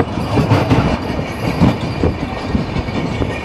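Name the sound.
Narasapur to Guntur passenger train running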